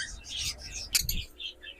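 Albino cockatiels chirp in short high bursts, with a sharper squawk near the middle, close by in an indoor bird market with low background rumble.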